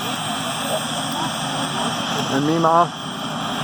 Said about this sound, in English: Spokane Sheriff helicopter.